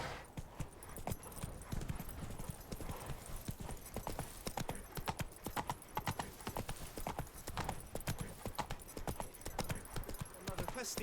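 Geralt's horse Roach trots along in The Witcher 3: Blood and Wine, its hooves clip-clopping in a steady, close rhythm for the whole stretch, with faint voices at times.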